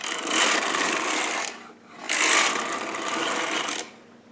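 Carriage of a Sister toy knitting machine swept across the needle bed while knitting waste yarn: two long, bright rasping passes with a short lull between them.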